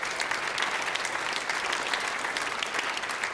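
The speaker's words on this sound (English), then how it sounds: "a huge round of applause for Mike and Tourmaline Oil and Gas" A crowd at the Oxford Properties Canadian Open squash finals applauds Mike and Tourmaline Oil and Gas, steady moderate clapping filling the room without a break.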